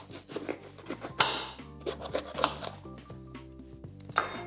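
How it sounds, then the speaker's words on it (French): A knife cuts through firm red bell peppers on a board, giving a series of crisp crunching, squeaking slices with light knocks in between, close and clear with no talking. "Ces poivrons sont fermes, ils crissent sous le couteau."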